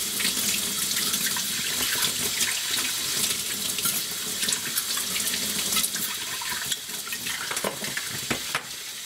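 Tap water runs continuously while a cup is rinsed under it, a loud close splashing and gurgling stream with small clinks and shifts as the cup is moved, no voices.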